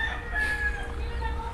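A kamistiso rooster crows once, a short, drawn-out call at moderate distance over faint farmyard background.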